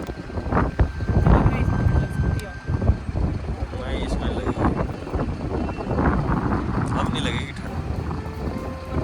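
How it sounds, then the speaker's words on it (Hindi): Strong, icy mountain wind on the road toward Rohtang near Manali roars and buffets the microphone in heavy gusts. The blustering continues the whole time, and someone talks under it. "हवा बहुत खतरनाक चली है, बर्फीली हवा चली है।"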